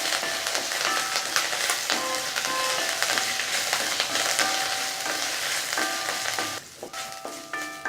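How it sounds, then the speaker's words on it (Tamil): Leaves, onion and garlic sautéing in a pan for rasam, a steady close sizzle with scraping stirs and clinks of a spoon against the pan, no voices. "இந்த வெங்காயம் பூண்டையும் இதில் சேர்த்துட்டு இதையும் சேர்த்து நம்ம வதக்கிக்கலாம்"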